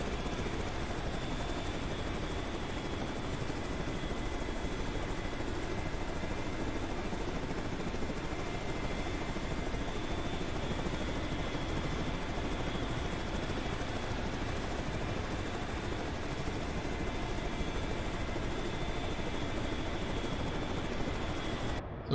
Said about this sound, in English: if the chopper is already in this is the helicopter landing pattern